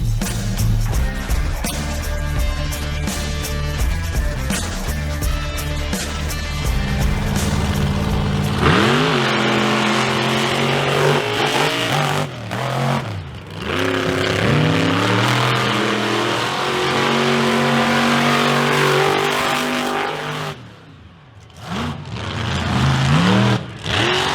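Monster trucks Smokin' and Toxic 2.0, both built in a metal shop, race at a monster truck show, engines revving and roaring loudly with rising and falling pitch sweeps, surging and dropping over the whole stretch.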